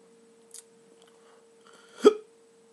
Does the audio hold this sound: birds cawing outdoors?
no